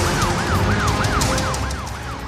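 An ambulance siren wails in a steady, repeating rising-and-falling sweep, loud and close, over a dense rumble of road traffic.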